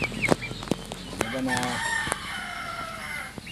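A rooster crows loudly nearby, with hens clucking around it and a few sharp bursts of activity in the background.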